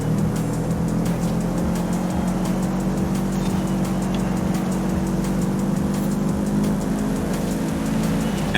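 Engine of a sedate older car driving steadily in Forza Horizon 5, a continuous loud drone with a constant low rumble and little change in pitch throughout.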